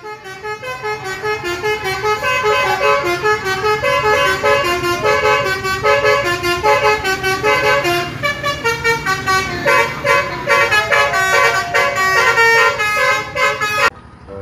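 A police bus sounds a loud musical horn in a continuous melodic run of repeated tooting notes, nearly nonstop for about fourteen seconds, with no talk over it.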